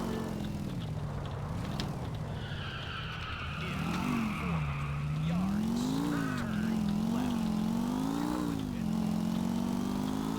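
A motorcycle engine drones loudly while riding through traffic in GTA 4, its pitch climbing and falling as the rider accelerates and eases off, with tire noise in a continuous close roar.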